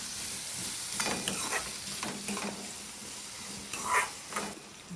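Onion frying in a pan with a steady sizzle, broken by repeated scraping strokes of a spoon stirring it, fairly close and with no talk.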